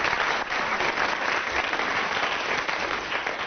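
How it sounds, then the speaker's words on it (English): A radio comedy panel show's studio audience applauds for Graham Garden, a dense, steady wash of clapping that stays loud and even throughout, with no voices over it. "Right, round of applause for Graham Gardner."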